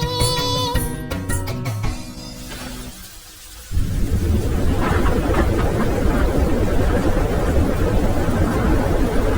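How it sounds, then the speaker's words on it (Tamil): Rain pours steadily with a broad, continuous hiss, after a short musical passage that ends in a brief quiet moment; a storm-like roar fills the rest of the clip alone. "காற்று வந்தது இடியும் வெட்டி மழையும் பெய்தது"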